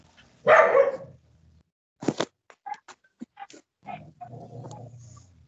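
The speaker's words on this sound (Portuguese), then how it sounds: "Meu cachorro para ajudar latindo" A pet dog barks and yelps nearby in a quiet room, one loud bark followed by a scattered run of shorter yaps and whimpery grunts.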